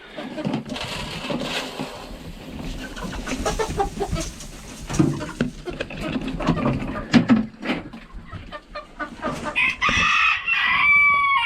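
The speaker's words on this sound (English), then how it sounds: "There's my 2 roosters." Two roosters crow and cluck in a snowy farmyard at chore time, close and fairly loud, with a person talking intermittently alongside them.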